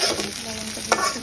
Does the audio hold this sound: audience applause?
no